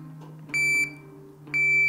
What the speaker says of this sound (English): the initial beep that you have will go off,